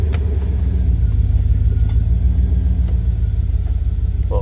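A car engine idles with a steady low rumble while the automatic transmission is run through its gears, loud and close, with only small shifts in tone.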